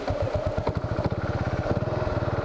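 A Buell motorcycle engine runs at a low, rhythmic, lumpy idle during a test ride, close and steady with a regular pulsing beat and no talking.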